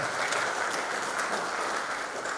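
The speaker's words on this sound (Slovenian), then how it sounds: "Zaploskajte, hvala lepa." A dense, steady round of clapping from a seated audience honours an award recipient at a firefighters' day ceremony, filling the room evenly without a break and with no voices on top.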